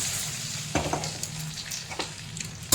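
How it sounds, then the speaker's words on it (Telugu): A sharp sizzle as hot oil tempering hits lentil soup, followed by crackling and a few light stirring clinks in a pot. "ఇప్పుడు దీన్ని మనం పెట్టుకున్న పోపుని దీంట్లో వేసేసుకుందాం"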